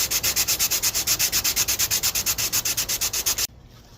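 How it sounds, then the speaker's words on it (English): Hand sanding a trunk part on a 1991 Honda CRX, a quick even run of about twenty rasping back-and-forth strokes, close and loud, ending abruptly into quiet. "I'm holding it with one hand and sanding with the other."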